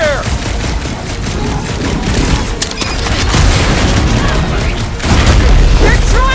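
A big gun fires during a hectic battle in the Guardians of the Galaxy game, heavy booming blasts rolling out loud and continuous, with a stronger burst near the end.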